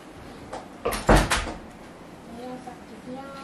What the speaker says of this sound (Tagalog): Sasara mo tong pinto.